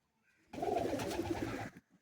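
A Madrasi pigeon in a loft gives a single soft, throaty coo lasting about a second, close and alone, with a faint trailing murmur after.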